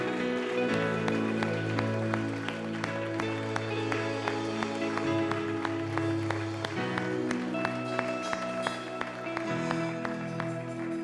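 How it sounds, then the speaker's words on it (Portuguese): A church congregation applauds God at a worship service, a sustained wash of clapping with occasional louder claps, mixed with held organ or keyboard chords underneath. "aplauda esse Deus maravilhoso, esse Deus tremendo"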